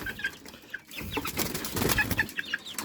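Free-range farm chickens scuffle in a fight, sharp clucks and squawks mixed with bursts of wing flapping, close and lively over a few seconds.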